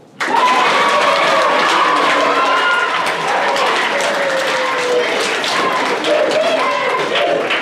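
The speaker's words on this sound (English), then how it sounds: "So please give us a round of applause for Rule" A school crowd at a sixth-grade award ceremony bursts into loud applause that starts abruptly and carries on steadily, with scattered voices and cheering mixed into the clapping.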